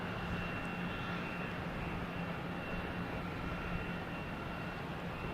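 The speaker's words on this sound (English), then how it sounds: "a Cape Air from Martha's Vineyard, a Cessna 402" A Cape Air Cessna 402 twin-engine plane drones faintly and steadily in the distance at Boston Logan Airport, a low continuous engine rumble with no voices.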